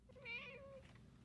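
A single cat meow used as a sticker sound effect, clear and close, rising then falling in pitch over about a second with no talking.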